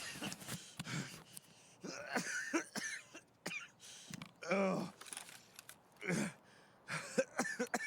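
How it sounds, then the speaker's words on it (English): A character in Escape from Tarkov coughs repeatedly in harsh, raspy bursts with short gaps between them, alongside some throat clearing. "And once I get the head done, I'll stop coughing."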